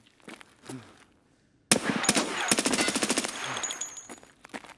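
Automatic gunfire in the Escape from Tarkov Labs video game: a sudden loud burst of rapid shots after a near-silent moment, lasting about two seconds, with faint footsteps and movement before and after.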